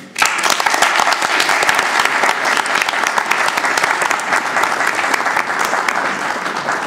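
A crowd claps steadily and loudly for several seconds, dense applause honouring a book's editor at an Armenian gathering, with no talk over it.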